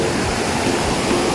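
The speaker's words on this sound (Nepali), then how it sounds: "यो खोलालाई चाहिँ रुप्से खोला भन्छौँ हामी" The Rupse river, a village fishing stream, flows and rushes close by, a loud, steady broadband wash of water without pause and with no voices over it.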